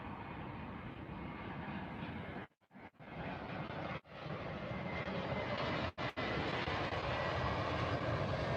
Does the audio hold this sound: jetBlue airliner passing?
yes